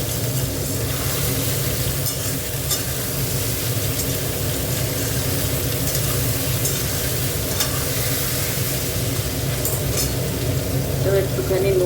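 Soaked, squeezed soybean chunks frying in a pan with a little salt, a loud continuous sizzle and crackle with occasional scraping, close up and without talk.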